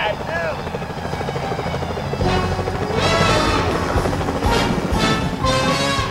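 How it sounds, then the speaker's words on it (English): Security helicopter in the video game Sly Cooper: Thieves in Time, a steady whirring drone running throughout alongside game music and effects, with a person talking over it. "Careful, Sly, those security choppers are bad"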